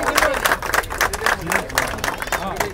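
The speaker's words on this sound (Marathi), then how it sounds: "त्याच्यासाठी एकदा टाळ्या होऊन जाऊन देत" A crowd at a 2025 cricket league prize ceremony claps for a cash prize donor: quick, dense clapping runs continuously while voices talk over it.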